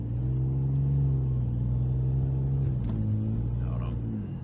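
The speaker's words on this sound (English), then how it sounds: "got the exhaust valve closed now. You can hear the difference in the sound. It's much quieter." A turbocharged Nissan 350Z widebody revs with its exhaust valve closed, a loud, close, muffled engine drone that climbs and holds before easing off and dropping to idle.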